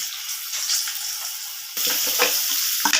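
Cut potatoes frying in reused fish-frying oil in a kadai, a bright, loud, dense sizzle that steadily hisses and then swells louder partway through, with faint stirring scrapes and no speech.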